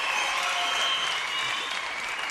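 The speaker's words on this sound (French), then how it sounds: "Applaudissements, mesdames, messieurs, pour Jacques Villeray" A studio audience at a French entertainment show breaks into dense, continuous applause, loud and even throughout with no gaps and no voices on top.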